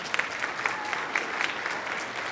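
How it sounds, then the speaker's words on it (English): A school winter band concert audience gives the trustees a round of applause, a steady wash of many hands clapping with a few sharper close claps, moderately loud and alone. "would you please kindly give them a round of applause for their support?"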